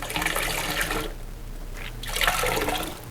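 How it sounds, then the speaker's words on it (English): Water squeezed out of rinsed yarn by hand, splashing and dribbling in two close bursts separated by a brief quieter pause. "you're just going to gently squeeze out the water"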